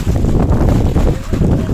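Steady low wind rumble buffets the microphone throughout at an outdoor evening campfire, a dense continuous roar with no clear talk on top.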